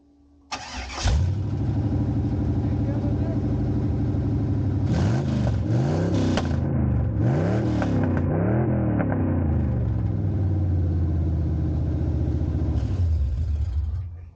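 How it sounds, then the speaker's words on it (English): A 1993 Chevrolet Camaro Z/28 with an LT1 350 V8 fires up on open headers, barking loudly and then revving in several sharp rising-and-falling bursts before settling into a rough, rumbling idle close by. "Okay, my friends, it goes with the open headers."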